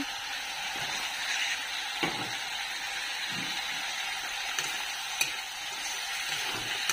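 Spice paste with chopped tomatoes fries in a pan for a small-fish chorchori, giving a steady soft sizzle with occasional faint scrapes and clicks of stirring, close and moderately quiet, with no talk.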